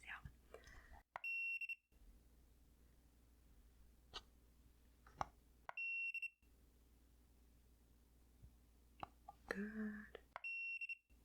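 Short electronic beeps, high and piercing, sound in three separated bursts in a quiet room, with soft close-up whispering and small handling noises between them.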